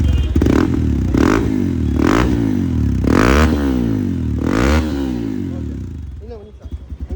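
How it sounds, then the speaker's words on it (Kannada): Hero Xpulse motorcycle with a Norifumi exhaust and the dB killer removed, revving hard in several loud, rising blips with a harsh, raspy bark, then settling to a lumpy idle. "ಈಗ sound D B killer ತೆಗ್ದಿದ್ದೀನಿ D B killer remove ಮಾಡಿದ್ದೀನಿ"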